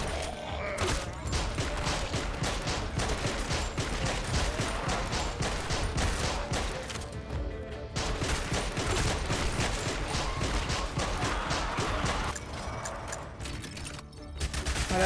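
Rapid, dense bursts of pistol gunfire from a zombie survivors video game crackle almost nonstop over a continuous game soundtrack, with brief lulls.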